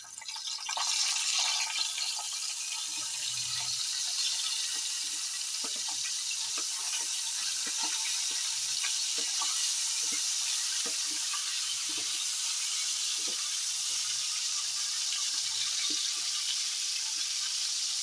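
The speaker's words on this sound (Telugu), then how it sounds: "ఉప్పు కొద్దిగా పసుపు వేసి ఎండు చేపలు వేపుకుందాం" Pieces of dried fish fry in oil with salt and turmeric, a loud, constant sizzle that flares at the start and then hisses steadily, with faint crackles and spoon scrapes.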